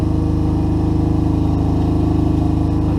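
A Fairymann generator engine built into a boat runs at a steady idle close by, a loud, even low-pitched throb with a rapid regular pulse throughout.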